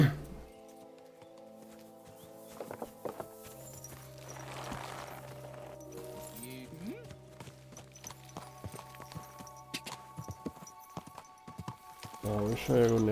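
Horse hooves clip-clop at an easy walking pace in the video game Kingdom Come: Deliverance 2, with steady clopping steps mixed with game music and clinks, and a person talking over it.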